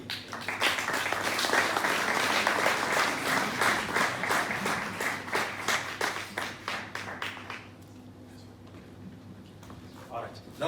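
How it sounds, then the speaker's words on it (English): Audience at a medical awards ceremony clapping in a sustained round, with several distinct hand claps standing out, then fading after about seven seconds into a quieter room with a faint voice. "We can give them a round of applause."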